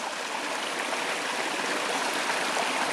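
A river rushes steadily close by, a continuous broadband wash of flowing water with no pauses and no voices over it.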